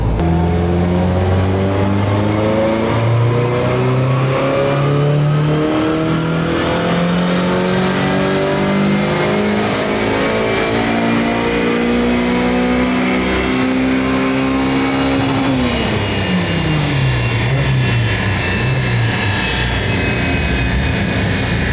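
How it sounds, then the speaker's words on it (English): A car engine on a dynamometer during a boosted power run, its note climbing steadily in a long loud rising sweep before dropping away as the throttle lifts, close and continuous. "Right then, first attempt at any sweeps on the dyno."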